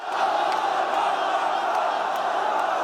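A large crowd in Syria celebrating the fall of the Assad regime roars, a dense, sustained wall of cheering and shouting that holds steady and loud throughout.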